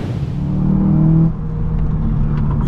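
A Seat sporty hatchback accelerating on the road, heard from inside: the engine revs climb steadily with a rising whine, drop at a gear change, then pull again over a constant road roar.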